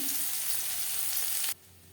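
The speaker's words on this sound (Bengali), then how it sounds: "পেঁয়াজ ভাজা তেলে দিয়ে দেবো রসুন" Garlic fries over a low flame in oil left from frying onions, a loud, close, continuous sizzle that cuts off abruptly near the end, leaving faint room hum.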